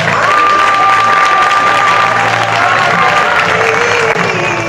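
A crowd at a Roma association's presentation event claps and cheers loudly and continuously, a dense wash of applause with a few whistles rising above it.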